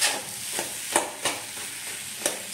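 Salt being stirred into potato bhaji in a pan, with a steady hiss of frying underneath and several spaced scrapes of a spatula across the pan, close by and moderately loud.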